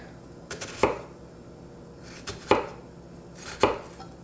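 Knife cutting an onion on a board during tomato sauce prep, three separate crisp cuts spaced about a second apart, close and clear with no talk.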